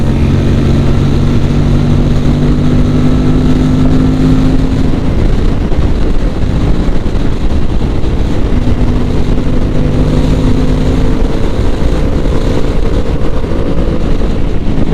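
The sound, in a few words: Aprilia RS 457 motorcycle engine revving while riding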